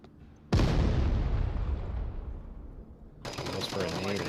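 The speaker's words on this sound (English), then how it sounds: "Goes for a nade in the south." A grenade blasts in the VR shooter Onward during a championship match, a sudden loud boom that rolls off and fades over a few seconds before other gunfire and game noise returns.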